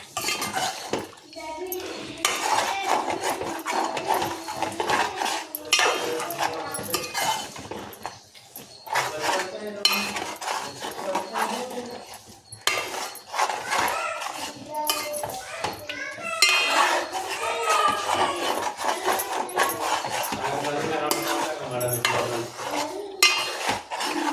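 A metal utensil scrapes and clinks busily against a pan while frying chicken is stirred to keep it from sticking, a near, continuous clatter running throughout.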